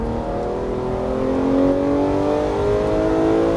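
A Porsche GT3 engine pulls hard out of a corner on the Issoire race circuit, its loud in-car roar rising steadily in pitch as it accelerates, with no voices over it.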